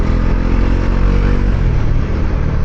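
A Bajaj Pulsar NS400Z motorcycle engine drones loudly and steadily while the bike is ridden through the city, with a rough, continuous low rumble and no pauses.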